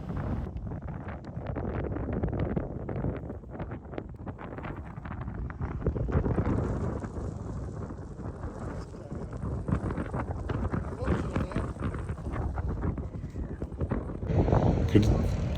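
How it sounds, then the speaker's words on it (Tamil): Steady desert wind roars and buffets the microphone during a Dubai desert safari, a dust storm blowing continuously throughout, with voices talking underneath the gusting rush. "டெசர்ட்டோட அந்த புழுதி புயல், இந்த தென்றல், டெசர்ட்டோட தென்றலை கொஞ்சம் ரசிச்சுட்டு இருக்கீங்க"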